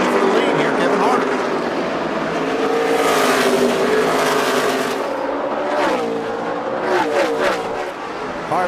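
NASCAR stock cars roaring past at the 2011 Wonderful Pistachios 400, a loud sustained engine drone with rising and falling pitch as cars pass, under a race commentator's talk.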